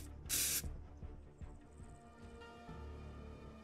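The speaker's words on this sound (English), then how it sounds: "it should be marked using blue spray paint" A can of blue spray paint is sprayed in the military game ArmA 3, one short loud bright hiss lasting about a third of a second, followed by quieter ambient game noise.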